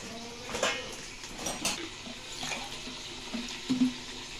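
Water is poured into a cooking pot on the stove, with soft splashing and a few light clinks of cookware in quiet, intermittent bursts and no talking.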